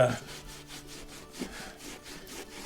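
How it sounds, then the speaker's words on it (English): Fine 4/0 steel wool with acetone scuffing the surface of an antique piece of furniture, a steady back-and-forth rubbing rasp in even strokes, close and fairly loud. "the steel wool helps to scuff it up and get anything off that is behind"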